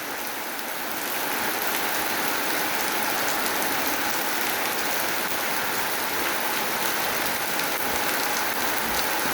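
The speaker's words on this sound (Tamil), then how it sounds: "பாருங்கள் எப்படி மழை பெய்யுது." Steady heavy rain pours down in hot weather, a dense continuous hiss of drops drumming on surfaces, loud and unbroken throughout with no voices.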